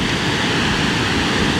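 Firehole Falls on the Firehole River in Yellowstone, a steady, loud roar of falling water that rushes without a break and sounds close and alone.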